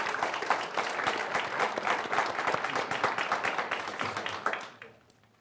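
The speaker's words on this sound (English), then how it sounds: "please give yourselves a big round of applause" An audience at a college speech showcase gives itself a round of applause, a dense and lively burst of many hands clapping that holds steady before fading out quickly near the end.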